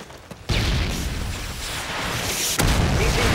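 Javelin missile explosion in Call of Duty MW3, a sudden loud boom followed by sustained rumbling roar, with a second blast hitting near the end.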